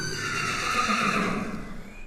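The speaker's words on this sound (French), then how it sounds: "j'ai les chevaux qui me disent bonjour" A horse in a boarding stable lets out one long, loud, quavering neigh close by, rising and falling over about two seconds.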